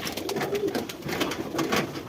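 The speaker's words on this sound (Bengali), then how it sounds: "কবুতর সব ছেড়ে দেবো এখন খেতে দিতে হবে" Pigeons coo softly and repeatedly in an indoor home pigeon setup, low rounded calls overlapping in a steady rhythm with faint fluttering and background room noise.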